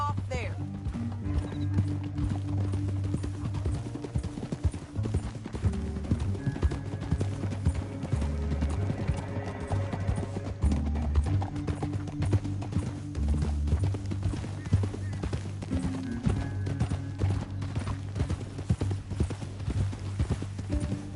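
Horse hooves clip-clop steadily through the video game Red Dead Redemption 2 as riders travel a canyon, a continuous rhythmic trot under game music and voices.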